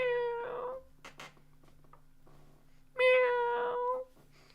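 A man imitates a cat with two drawn-out, harmonic meows, one at the start and one about three seconds in, with a faint steady hum between them.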